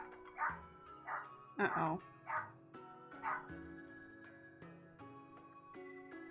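A friendly dog gives a series of short barks and yips in a room, fairly loud and spaced about a second apart, with a person talking briefly over them.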